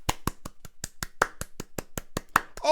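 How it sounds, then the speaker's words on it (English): Steady, evenly spaced claps ring out one after another at a brisk, regular pace, fairly close and crisp, with a short burst of other noise at the very end. "All this incessant clapping, ridiculous."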